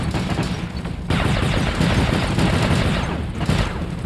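Dense, loud robot gunfire from the War Robots battle game, with a continuous barrage of rapid shots that swells into a heavier volley after the first second and keeps pounding to the end.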